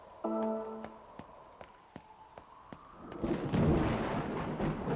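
Thunder rumbles in a Nier Reincarnation stormy scene, a low broad roll swelling after a few seconds over faint rhythmic ticking and a short musical chime at the start.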